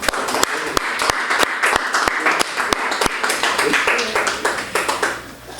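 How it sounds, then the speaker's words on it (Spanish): A church congregation applauds as an offering of praise, a dense, steady roar of many hands clapping close by for about five seconds before it tapers off, with a voice faintly underneath. "Démosle a nuestro Dios una ofrenda de palmas por este estudio"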